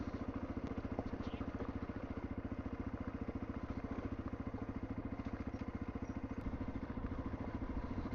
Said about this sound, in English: But I'm out riding the 1994 Honda XR250L. And this thing is running beautiful.